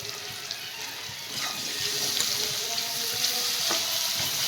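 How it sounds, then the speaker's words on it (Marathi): Onion frying in a pan with bitter gourd, a dense continuous sizzle, close and fairly loud, with a few faint stirring clinks. "आता मी बघा याच्यात कांदा टाकते"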